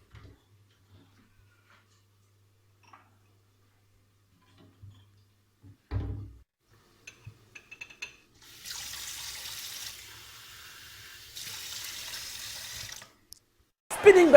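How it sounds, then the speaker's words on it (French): Water pouring into a glass in a kitchen, a faint, close hiss in two short bursts lasting a few seconds each, with a few quiet clicks and knocks before it and no talking. "je vais me servir un petit verre d'eau parce que j'ai un peu soif"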